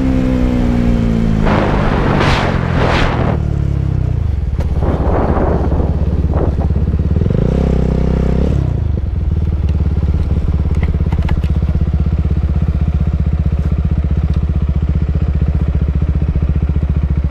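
Motorbikes racing on a track, loud revving engines sweeping past with rising and falling pitch, then a steady roar of engines under heavy wind noise across the rest of the clip.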